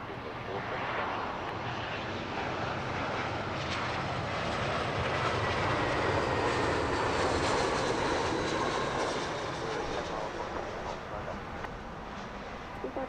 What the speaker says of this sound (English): Our next in a long line of British Airways A320s.